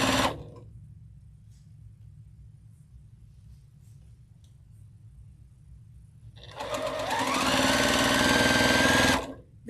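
A sewing machine stay stitches along the bias edge of a quilt. A quiet hum at the start gives way to low rumble, then a loud, close whirring run of rapid stitching near the end.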